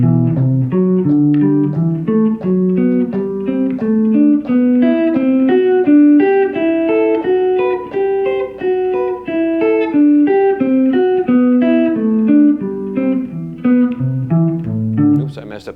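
A guitar plays a continuous melody of quick, evenly timed single notes, loud and close, flowing steadily without any talking.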